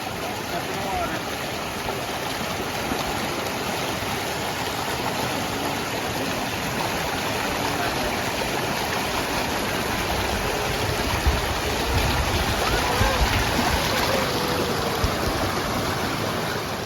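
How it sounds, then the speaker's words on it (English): Creeks run full after heavy rain in the Ouachita backcountry, a constant broadband rushing roar of flowing water that stays steady and fairly close throughout, with no clear speech. "All down through here, you can just hear the creeks running with all the rain we had."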